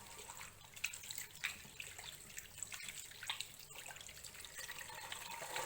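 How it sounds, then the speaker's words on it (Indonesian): Tap water runs steadily over hands being rinsed at a sink during a WHO handwashing demonstration in a clinical skills lab, a faint continuous splashing stream with small uneven gurgles and no talking. "Lalu yang terakhir adalah kita bilas."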